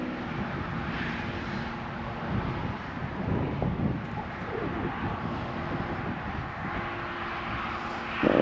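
A fixed-wing aircraft near a live airport beside the Norwich aviation museum gives a steady, moderately loud engine roar that holds for the whole stretch, mixed with gusty wind buffeting the microphone.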